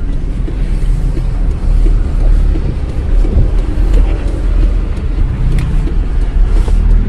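Traffic on a busy roadside, with a continuous loud rumble of passing cars and engines and a few swells as vehicles go by close to the listener, no speech.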